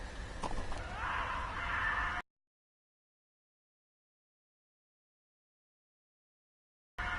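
A horse whinnies briefly over a soft background in the video game Telltale Game of Thrones, followed by a long stretch of silence.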